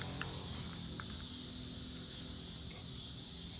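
A Mustang II tachometer's terminals are being probed with a multimeter. Its continuity beep, a steady high electronic tone, cuts in partway through, breaks off briefly, then holds on loud and unbroken to the end over low shop hum.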